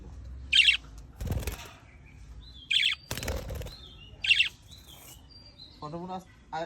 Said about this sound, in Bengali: পাখিটা কত কষ্ট পাইলে এরকম চিল্লাতে পারে।